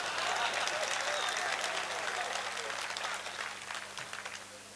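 Loud applause from a crowd at a poetry mushaira in Sanawad, sustained clapping that gradually fades toward the end.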